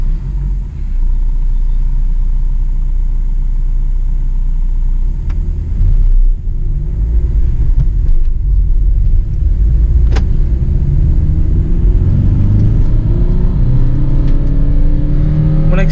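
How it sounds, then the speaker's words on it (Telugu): Maruti Vitara Brezza ZDi+ BS6 diesel engine rumbling steadily at idle, then rising into revs in first gear, loud and close throughout, with engine tone climbing toward the end. "మనకి ఐడిల్లో ఇంజన్ ఉన్నప్పుడు నార్మల్ 1000 RPMలో ఉంది"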